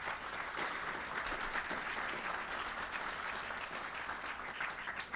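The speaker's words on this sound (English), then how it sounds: "so a big round of applause for all our member companies here" Round of applause from a breakfast audience at a MassBio policy leadership event for member companies, a sustained, fairly even wash of many hands clapping, moderately distant.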